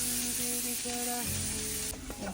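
Carrot frying in a pan, a steady close sizzle with faint stirring scrapes and some tonal background hum.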